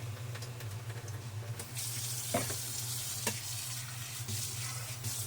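Rice tipped into a pot of hot oil and ghee for tomato rice, followed by a steady watery sizzle and stirring scrapes, close and continuous, with no talk over it.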